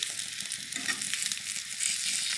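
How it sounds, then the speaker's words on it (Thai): German sausages fry in a little oil in a pan over low heat, giving a continuous, close sizzle with light crackles and no talk. "แล้วก็วางไส้กรอกลงไป คอยพลิกเปิดไฟเบาๆ"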